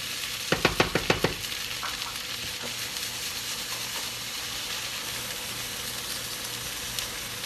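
A vegan tofu omelette cooking in a non-stick pan on medium-high heat gives a steady low sizzle, opened by a quick cluster of five or six sharp taps, with no talking.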